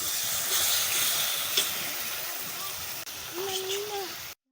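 Spice masala frying in a pan hisses and sizzles steadily up close as a little water is added, while someone talks over it.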